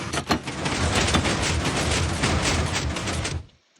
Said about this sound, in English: We have a piston door, guys.